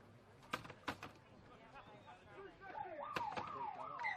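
A siren wails at the end of the first quarter of an under-18 rugby league match between the West Tigers Cubs and the Warrington Wolves at Kirkham Oval, rising and falling faintly in the distance after a few sharp knocks.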